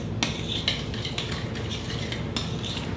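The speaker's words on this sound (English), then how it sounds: "I'm just gonna stir that all together, kind of mash up my brown sugar" A utensil stirs and mashes a meatloaf mixture with brown sugar in a bowl, giving repeated scraping clinks against the dish at an uneven rhythm, close and moderately quiet, with no talking.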